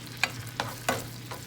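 Shrimp alfredo ingredients sautéing in a pan, with about four distinct stirring scrapes spaced roughly every third of a second over a low steady hum, moderately close and with no one talking.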